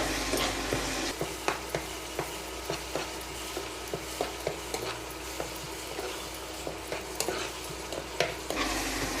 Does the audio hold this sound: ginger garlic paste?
yes